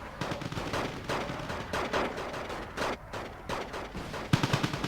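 Bursts of automatic gunfire from units in the video game Wargame Red Dragon, repeated volleys starting and stopping in an uneven rhythm, loud and close, with a sharper burst near the end.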